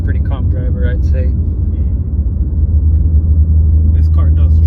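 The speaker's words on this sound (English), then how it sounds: "This car does drone quite a bit" Constant low engine drone from a BMW G80 M3 Competition under way, a steady deep rumble filling the cabin beneath a voice talking.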